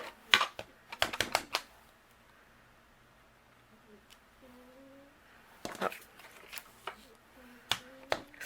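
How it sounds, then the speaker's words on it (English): A rubber stamp inked in black is pressed onto scratch paper with a stamping positioner, making sharp close taps and clicks in two quick clusters with quiet handling in between. "I'm going to stamp it with my black ink."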